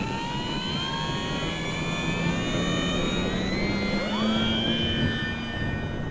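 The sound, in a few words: RC plane Arrows Husky taking off on windy day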